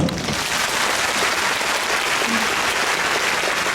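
Masked concert audience at a Phantom Singer all-star gala applauds in place of cheering, a thick, continuous roar of many hands clapping, loud and even for the whole stretch.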